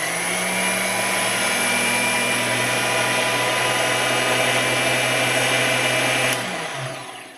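An Atlas 12 lathe runs steadily after balancing, a constant machine hum with a low drone and a high whine holding even for about six seconds before winding down.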